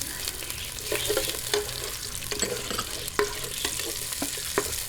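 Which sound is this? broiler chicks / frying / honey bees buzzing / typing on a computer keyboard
frying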